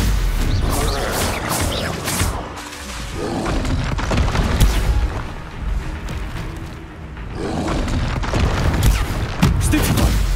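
Repeated booming fire-spell explosions from Confringo casts in the Hogwarts Legacy video game, loud blasts and crashes bursting one after another in a dense, continuous barrage of combat noise.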